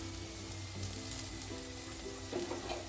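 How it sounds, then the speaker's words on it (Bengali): Paneer lachha paratha fries in rice bran oil with a steady, close sizzle and crackle that holds evenly throughout, with no talking. "এবার একটুখানি রাইস ব্র্যান অয়েল দিয়ে দেওয়া হলো।"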